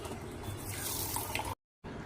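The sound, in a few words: water poured to wash mung dal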